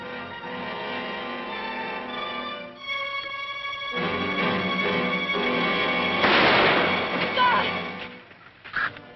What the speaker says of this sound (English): Tell the boys to wait until I fire.